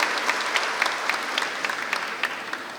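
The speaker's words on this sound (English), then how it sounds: "Please clap for them. Make some noise, because your encouragement means the world to them." Audience at a preschool annual day celebration clapping, a dense steady burst of applause from a crowd with scattered louder claps, fairly close and continuous throughout.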